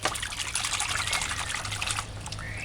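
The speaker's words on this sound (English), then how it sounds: "It's best if you do this part on the fresh running water" Water from a running tap trickles and splashes steadily over fresh mushrooms being rinsed, a close, continuous wash with no voices.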